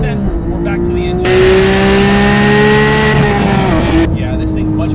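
Porsche 911 GT3 engine pulling hard on the road, a loud, high, rising wail through the gears with a brief lift-off, and someone talking over it.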